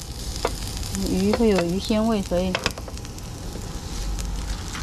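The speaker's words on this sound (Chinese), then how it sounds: "我先煎鱼，" Mandarin fish fries on an outdoor iron griddle with a steady close sizzle and crackle while a person talks over it, with a few clicking clatters of utensils.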